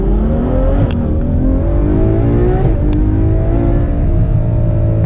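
A Ferrari 812 Superfast V12 pulls away from a standstill, its engine note climbing steadily and loudly through first gear with a strong, continuous roar and rising harmonics, no voices over it.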